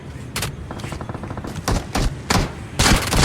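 Repeated bursts of gunfire in PUBG Mobile ring out, with rapid automatic volleys and sharp single shots; the sharp blasts grow louder and denser toward the end, with a low game soundscape beneath them.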